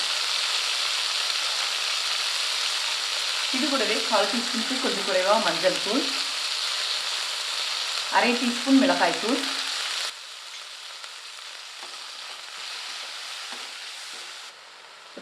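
Tomato, garlic and onion sautéing in a pan, a steady broadband frying sizzle running throughout, with someone talking over it in two stretches.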